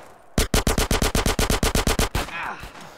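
A rapid burst of automatic gunfire in Grand Theft Auto San Andreas, about fifteen evenly spaced sharp shots in quick succession, loud and close, then a fading rumble.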